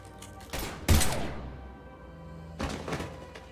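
A burst of gunfire rings out in the video game Mass Effect Legendary Edition: a sharp heavy crack with a booming tail, then a quieter pause and a second softer volley, no speech over it.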